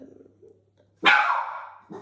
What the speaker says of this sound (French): Oh, Skyla, désolée, c'est ma chienne